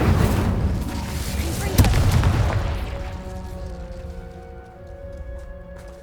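Incendio fire spell cast in Hogwarts Legacy: a heavy whooshing blast with a booming impact that rumbles and fades over several seconds, leaving a quieter tonal hum behind.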